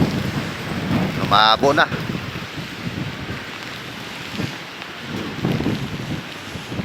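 Heavy rain and strong wind from Typhoon Maymay roar steadily as a broad wash of noise, with someone speaking briefly over the storm near the start.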